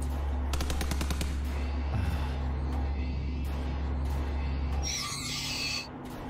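Gunfire from the video game SIGNALIS: a quick burst of sharp shots early on, then a single loud blast near the end, all over a steady low electronic hum.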